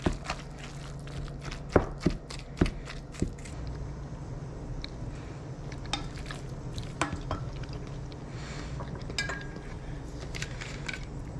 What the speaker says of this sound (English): Now we're going to go ahead and mix, breaking all of the salmon up and incorporating the eggs.